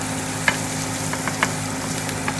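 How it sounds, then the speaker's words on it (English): Garlic fries in a pan for spaghetti carbonara, giving a steady close sizzle with a few sharp pops and spatter clicks, with no one talking. "So garlic in the pan. Fry it up."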